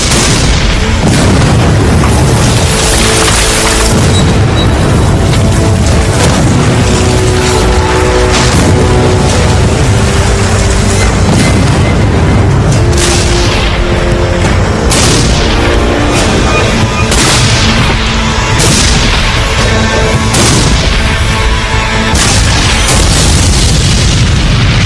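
The Battle of Gettysburg artillery barrage thunders as loud, dense, overlapping cannon booms and blasts, rolling continuously with little pause between shots.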